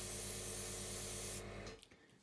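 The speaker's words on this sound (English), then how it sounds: "I'm always starting at the bottom and just spraying upwards on this particular one" An aerosol can sprays colour upward onto a hydrangea flower from close range, a steady loud hiss lasting over a second before cutting off, followed by faint rustling.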